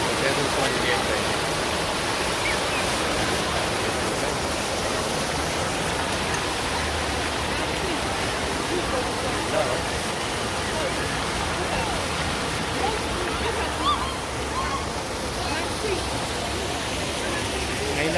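Steady broadband splashing of an outdoor fountain at a Canada Day celebration, water falling continuously and fairly evenly throughout, heard at moderate distance with no clear speech.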